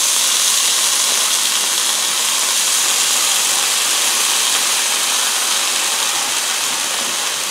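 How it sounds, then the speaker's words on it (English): A steady, loud hiss with no breaks, like butter sizzling hard in a hot pan, close up and without any talking. "So the butter's sizzling and melting."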